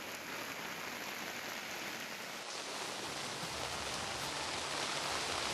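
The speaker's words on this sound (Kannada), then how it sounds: "ನಿನ್ನೆ ರಾತ್ರಿಯಿಂದ ಸುಮಾರು 6 ಗಂಟೆಯಿಂದ ನಿರಂತರವಾಗಿ ಮಳೆ ಸುರಿತಾ ಇದೆ ಉಡುಪಿ ಜಿಲ್ಲೆಯಲ್ಲಿ" Heavy, continuous rain falling in Udupi district gives an even, unbroken hiss that swells slightly toward the end, with no talking.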